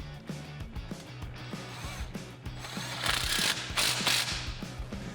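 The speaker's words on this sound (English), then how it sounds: "Going to reinstall those factory bolts and use a 13mm on an extension to tighten them back up." A ratchet on a 13mm socket with an extension tightens the factory brake line bolts on a 2018 Jeep Wrangler JL, giving close, rhythmic clicking bursts with a brief louder metallic rattle near the end.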